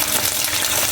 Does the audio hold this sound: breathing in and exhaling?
no